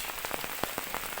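Rain patters steadily on a surface outdoors in a village by a waterfall, a dense wash of drops with scattered sharper hits, close and fairly loud, no voices.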